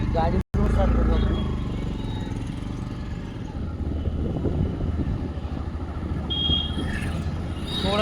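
A vehicle engine cranks and catches with a low rumble after a brief silent gap, then settles into a steady, fairly loud running drone, with voices talking over it.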